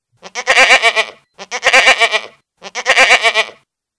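A goat in a French audio fairy tale bleats three times in a row, each a close, wavering, nasal cry with short pauses between, heard alone with no talk.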